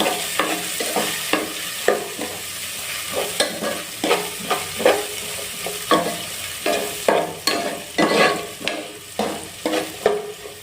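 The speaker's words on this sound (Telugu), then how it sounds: "ఆనియన్స్ వేసుకొని ఒకసారి ఫ్రై చేసుకుందాం." Onions frying in a pan for chicken pulao, a constant sizzle overlaid by rhythmic, repeated spatula scrapes and stirs, close and fairly loud.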